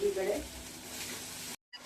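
Hot oil tempering for boiled dal sizzles loudly and continuously for about a second and a half, then cuts off abruptly before a brief return of faint crackle.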